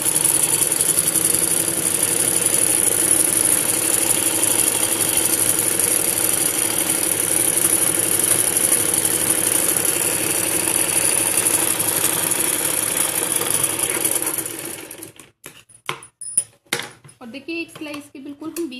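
A sewing machine stitches a salwar in a steady, continuous mechanical run close up, holding constant for about fifteen seconds, then stopping abruptly before a few scattered knocks and handling sounds.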